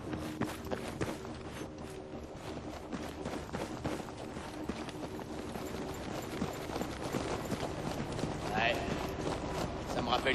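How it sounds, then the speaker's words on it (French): Footsteps in the first-person shooter Battlefield 4, a steady run of loud, close steps in the campaign mode, with game noise and people talking over them throughout. "Les bruits de pas sont vachement forts par rapport au bruit des voix."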